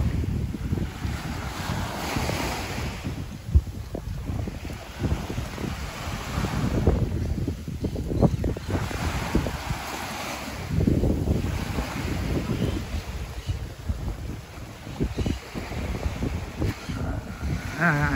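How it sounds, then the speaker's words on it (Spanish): Steady wash of Caribbean Sea waves and surf on a beach at Guayanilla, Puerto Rico, mixed with gusty wind buffeting the microphone, continuous and fairly loud with no talking. "El famoso mar Caribe."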